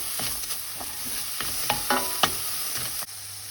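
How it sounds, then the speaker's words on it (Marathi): Red bell pepper and mung bean sprouts tossed in a pan with French beans, a soft sizzle under repeated scraping and tapping of a spatula as they are stirred, close and fairly quiet. "हांवें रेड पेपर वो कॅप्सिकम तोय घालतां. बरें मिक्स कर."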